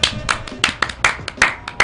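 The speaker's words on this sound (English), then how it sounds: "Did I do a soul clap?" Hands clap in a quick, uneven soul-clap rhythm, about a dozen close, crisp claps in under two seconds.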